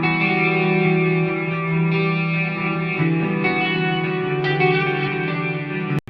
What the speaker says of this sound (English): so we can hear this guitar over it